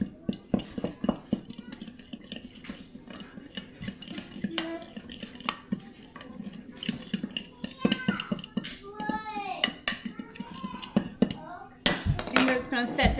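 Ingredients for breakfast dough being stirred in a bowl at home, with scattered utensil clinks and scraping against the bowl, close by and fairly quiet, under brief background chatter from a child and an adult.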